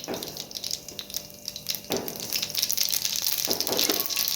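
Mustard seeds crackle in hot oil in a pan, a rushing spatter of rapid pops that grows denser and louder toward the end, with a couple of clinks from a spoon, close up and without talk.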